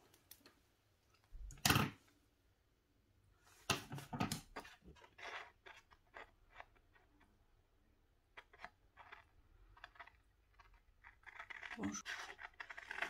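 Scissors cut out a paper flower for a handmade pen case, heard as faint, scattered snips and clicks with quiet pauses between them, and a voice speaks softly at times.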